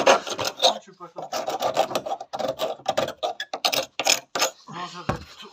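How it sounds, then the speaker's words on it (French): Hand sanding on the bodywork of a drift car being prepared for rattle-can spray paint, with repeated close rasping strokes in a steady back-and-forth rhythm and short pauses between bursts. "Là, il ne reste plus que ça à poncer."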